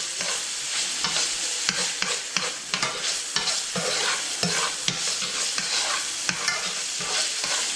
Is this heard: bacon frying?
yes